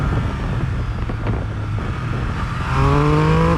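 Triumph Speed Triple 1200 RS motorcycle engine, loud and close, holding a steady throaty drone that rises into a climbing rev near the end.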